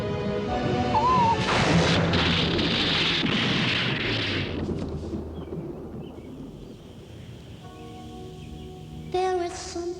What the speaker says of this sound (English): Thunder scares me.